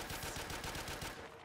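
A pistol firing in Black Ops 3 Zombies, a quick burst of several evenly spaced gunshots, faint and compressed in the game mix, over about a second and a half with no talk.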